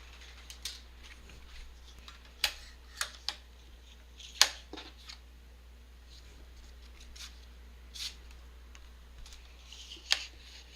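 Scissors cutting a paper tag down to size for a junk journal: a quiet, close series of irregular crisp snips and clicks against a faint background hum.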